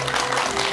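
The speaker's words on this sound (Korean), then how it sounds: "큰 박수 부탁드립니다." Studio audience applause welcoming a guest onto a talk-show stage, a brief, loud, dense burst of clapping.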